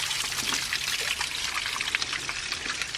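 Water trickles and drips off the side of a rock bluff, a close, steady patter of small splashes with continuous fine dribbling and no voices.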